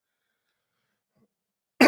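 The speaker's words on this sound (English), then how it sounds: "I need to cough again." A single cough or throat clearing bursts out abruptly at the very end after near silence, close and fairly loud.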